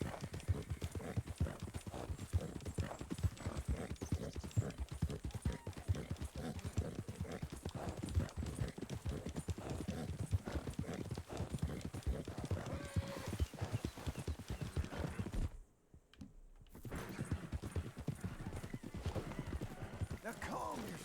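Horses trotting in Red Dead Redemption 2, with a steady run of hoof clip-clops and an occasional whinny, continuous and fairly close, briefly cutting out near the end.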